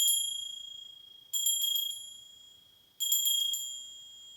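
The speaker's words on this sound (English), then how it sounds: "let's just ring this bell." A small bell is struck three times, each strike giving a bright, ringing metallic tone that rings on and slowly fades before the next, heard alone and close.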